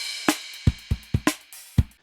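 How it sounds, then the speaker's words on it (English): A short repitched drum loop of six or so punchy hits, kick-like thumps and snappy strikes in an uneven groove, ending in silence. "And now you have these drums which sound like this."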